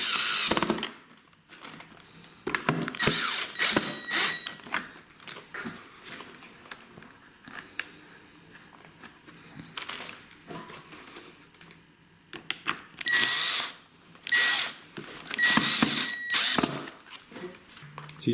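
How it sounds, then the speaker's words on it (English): Screws being driven in with a power driver while refitting the motor of a Henry Numatic vacuum cleaner, heard as several short close-up whirring bursts separated by quieter handling and clicks. "So I can press that down and tighten up my screws."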